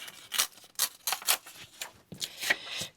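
Two contrasting papers are torn by hand in a series of sharp ripping bursts, close and fairly quiet, with brief pauses between the tears.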